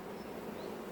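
Honeybee colony buzzing at an apiary in Montgeron, a steady dense hum held evenly throughout at close range, with no voices over it.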